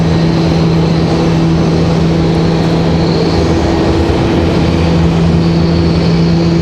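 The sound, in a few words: Republic Airways airliner getting ready to roll at RDU airport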